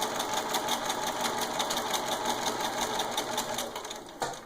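A sewing machine runs steadily at a quick even rhythm while sewing a basting stitch on a thread sample, its close buzzing chatter continuous throughout before easing at the very end.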